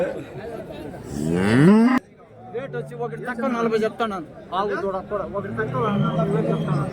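Cattle at the Santhipuram cow market in Andhra Pradesh: one loud, close, rising moo sounds near the start, then people talk over a busy market background.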